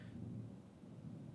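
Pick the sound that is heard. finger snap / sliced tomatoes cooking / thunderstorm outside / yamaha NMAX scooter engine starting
thunderstorm outside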